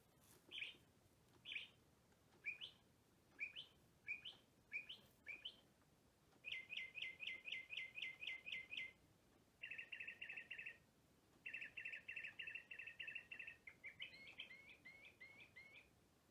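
Quartz bird-chirping clock playing a recorded Northern Mockingbird song: a run of varied, bright chirped phrases, first spaced single calls, then rapid trilled bursts and quick repeated notes, moderately close and alone with no talk.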